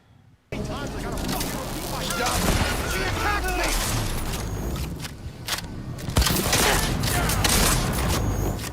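Shotgun blasts and gunfire rattle through a Cyberpunk game firefight, dense and loud after a brief silent start, with booms, footsteps and a voice talking over the action.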